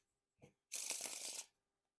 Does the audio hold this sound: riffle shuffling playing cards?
yes